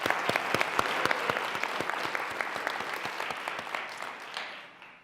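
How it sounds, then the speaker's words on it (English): Audience at a college business pitch competition bursts into steady applause, dense clapping close and loud before tapering off toward the end. "Give yourselves a round of applause."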